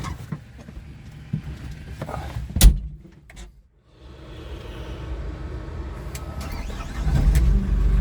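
An Avant 860i compact loader, already warmed up, gives a few clunks and a short knock before its engine rumbles into a steady low idle. The engine grows louder near the end, with no talking.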